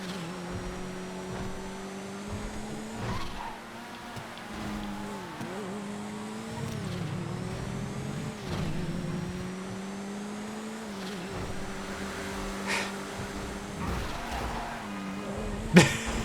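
An ACV8 compact car with no brakes races in a GTA FiveM compacts-only event, its engine droning steadily with rising and falling revs and a few tire squeals, growing louder near the end.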